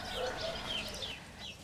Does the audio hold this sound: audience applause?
no